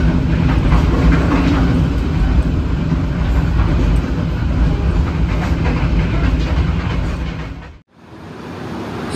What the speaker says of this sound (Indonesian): perjalanan kereta api Blambangan Express telah tiba dan berhenti di stasiun Sidoarjo